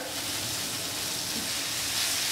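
Green beans and peas fry in a knob of butter in a pan, giving a steady, even sizzle and hiss that stays close and constant throughout.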